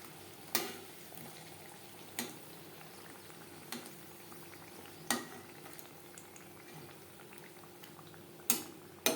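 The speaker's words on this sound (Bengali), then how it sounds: "এইভাবে উল্টে পাল্টে ক্রিস্পি করে ভেজে নেব" Fuchka puris deep fry in hot oil with a faint steady bubbling sizzle, broken by a handful of sharp clicks and taps as they are turned in the pan, close and quiet with no talking.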